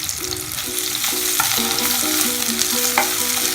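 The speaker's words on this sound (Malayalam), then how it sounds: "നമുക്ക് പഴം ചേർത്ത് ഇത് നന്നായിട്ട് ഇളക്കി ഇതിൻ്റെ ആ വെള്ളമൊക്കെ ഒന്ന് തോർത്തിയെടുക്കണം" A banana mixture for banana laddu is stirred in a pan and sizzles steadily, with a spoon scraping and knocking in a repeated rhythm close by and no one talking.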